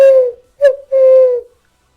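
A person's voice imitating an owl's hoot: a long hoot, a quick short one, then another drawn-out hoot, loud and close with no other sound.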